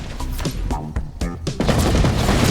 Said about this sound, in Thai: ระเบิดมันยาวมาก